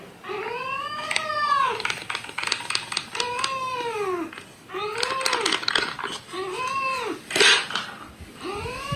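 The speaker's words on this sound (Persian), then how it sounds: "شیشه خوردن گربه رو دیدی؟" A pet cat makes repeated drawn-out, whining meow-like cries while drinking milk from a baby bottle, close and fairly loud, several vocal bursts in a row with brief pauses between them.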